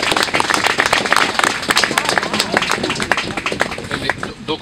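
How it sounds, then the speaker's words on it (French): An audience applauding at a memorial stele inauguration, steady close clapping from a crowd that holds for a few seconds, with murmured voices beneath it. "On les applaudit."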